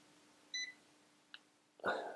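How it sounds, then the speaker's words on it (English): Flir IM75 insulation multimeter giving a short, clear electronic beep for its low-battery alarm, followed by faint clicks and handling noise close up in a quiet room. "Battery life has gone into alarm now."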